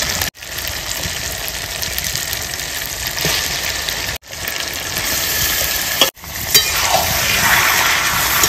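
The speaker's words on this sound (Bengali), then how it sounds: "এবার দিয়ে দেবো ধুয়ে রাখা মাটনটা।" Washed mutton hitting hot oil and fried spice paste in a village kitchen, a loud steady sizzle and hiss broken by a few abrupt cuts, with stirring scrapes near the end.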